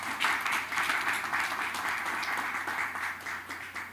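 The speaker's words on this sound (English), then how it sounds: "Please give a round of applause." Dinner crowd at a Diwali fundraising gala in a temple hall applauding a donor, a steady dense wash of clapping that holds for the whole stretch at moderate level, with no talk over it.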